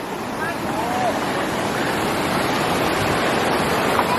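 Tham Phra waterfall in Bueng Kan province, Thailand: a loud, steady rush of falling water fills the whole scene without letup, with faint voices in the background.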